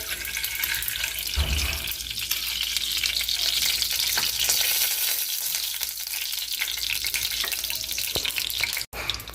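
Almonds fry in ghee in a pan with a steady, bright sizzle and occasional stirring scrapes, loud and close with no talking, ending in a sharp click.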